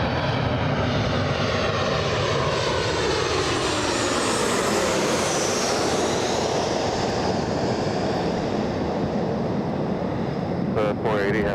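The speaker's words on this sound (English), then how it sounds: "We have an arrival coming in. Delta from Kansas City" A Delta airliner arriving at Los Angeles International Airport roars steadily and loudly throughout, a broad jet rumble with a sweeping pitch shift as it passes close overhead.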